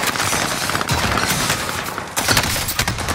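Gunfire in the battle royale game Call of Duty Warzone, with dense, loud crackling shots and bursts filling a noisy scene and a heavier burst near the end.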